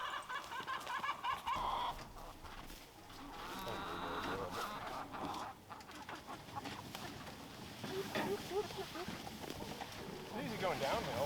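Pasture-raised chickens cluck and squawk while their chicken house is being moved across a field, heard steadily under people talking nearby.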